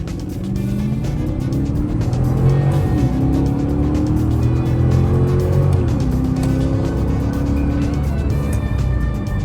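A modified police car accelerates hard up a highway on-ramp, its engine and exhaust note climbing steadily in pitch. Two distinct gear shifts break the rise, all loud and close with steady road noise underneath.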